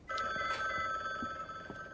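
A telephone rings inside a video game set in a mansion, with a steady electronic tone that holds for nearly two seconds at moderate volume.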